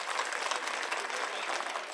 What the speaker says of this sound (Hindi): ताली बजावा सब जने